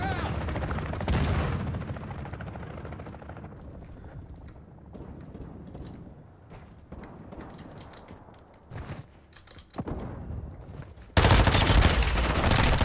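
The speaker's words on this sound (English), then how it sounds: "So basically, this gun is fully automatic." Automatic gunfire from a Lachmann Sub in Call of Duty Modern Warfare 2, in a gritty match at La Casa, with dense overlapping bursts and game effects, building to a loud sustained blast near the end.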